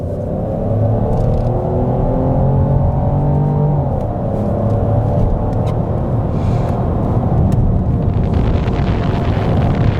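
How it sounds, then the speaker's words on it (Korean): A Peugeot 3008 with the 1.2 PureTech petrol engine accelerates in sport mode with manual shifting, its engine drone rising steadily in pitch under heavy cabin road rumble, with no talking. "이 상태에서 한번 가속을 진행해 볼게요."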